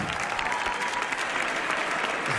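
A concert audience at a Día de los Museos show applauds in a steady, dense burst of clapping that is fairly faint and distant throughout.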